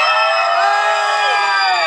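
A live audience at a band performance cheers and shouts loudly and steadily, a dense sustained wall of crowd voices close by with no pauses.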